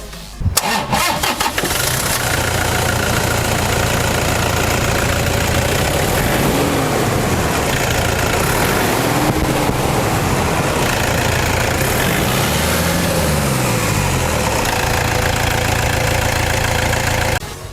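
A 2013 Toyota Vigo Champ SmartCab 2.5 pickup starts with a brief crank, then idles steadily and loudly up close for the rest of the time, an even diesel-like rumble with slight knocking.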